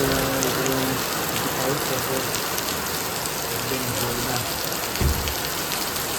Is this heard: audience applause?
no